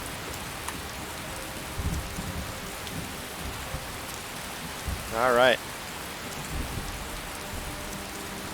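Steady rain falls across a video game campsite, a continuous hiss with soft patter throughout, broken by a brief rising chirp partway through and a short spoken remark.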